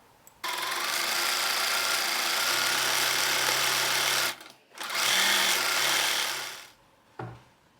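Sewing machine stitching a yoke onto the back bodice of a homemade early-summer blouse: a steady, loud whirring run for about four seconds, a brief pause, a second long run, then a short final burst.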